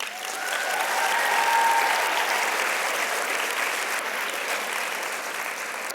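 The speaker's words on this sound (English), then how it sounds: "give yourselves an applause for being here today" A conference audience at a young women's leadership event applauds itself, a dense, steady wash of many hands clapping that swells early and holds loud through the whole stretch without any voices on top.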